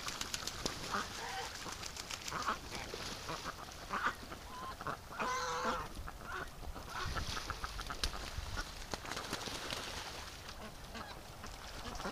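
Geese honk at a winter creek among ducks, a few brief honks and squawks standing out over a steady wash of outdoor noise, moderately distant and not very loud.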